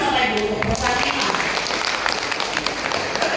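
Indonesian seminar audience applauding a company, dense clapping throughout under a continuous bed of voices and crowd noise.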